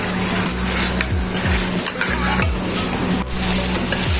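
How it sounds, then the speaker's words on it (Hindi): Mutton trotters (paye) being roasted and stirred in a pan, a loud dense sizzle with rhythmic scraping strokes repeating about twice a second. "इसी को मैंने 4 मिनट तक पाई की भुनाई कर ली है"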